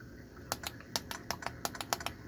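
Computer keyboard keys struck one at a time during a game, about a dozen crisp, evenly spaced clicks at a moderate tempo, close but quiet over a low background hum.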